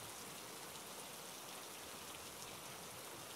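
Steady rainfall, a dense even hiss of drops pattering on surfaces, faint and continuous with no voices.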